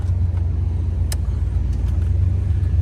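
A 1987 Oldsmobile Cutlass cruises around a corner on a drizzly day, its engine giving a steady low rumble close up and alone, with a brief faint tick partway through.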